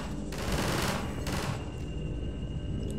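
Automatic weapon fire in the Half-Life 2 video game, loud and dense bursts of rapid shots blending into a continuous roar for a few seconds without pause.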